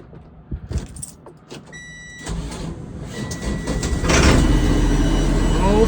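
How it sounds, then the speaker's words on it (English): An old bus engine cranks over and catches on a cold day, rising from quiet clicks into a loud, steady idle that fills the space, with a brief electronic beep partway through. "Haven't cranked this bus since last week."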